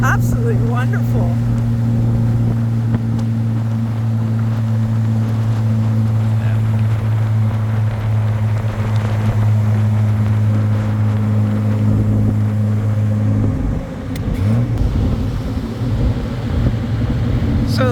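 1963 Austin Healey 3000 Mark II BJ7 cruising at about 70 mph, its exhaust a steady low drone with wind and road noise around it, loud and close from start to finish, with a brief shift near the end.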